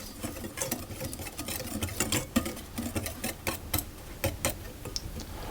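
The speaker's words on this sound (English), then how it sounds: "the flour, the baking powder and the sugar into a larger bowl, and I'm going to mix those around." Flour, baking powder and sugar being stirred together in a large bowl, giving a steady run of light ticking, tapping strokes of utensil against the bowl, close and fairly quiet, with no voice.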